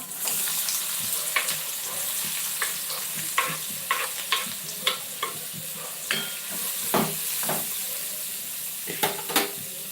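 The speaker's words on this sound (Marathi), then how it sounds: "तेल गरम झालं की आपण त्याच्यामध्ये आपण कांदा टाकून घेऊया हे बघा बारीक कापलेला कांदा" Finely chopped onion goes into hot oil and sizzles steadily, with a continuous frying hiss and repeated sharp stirring scrapes and clinks close by.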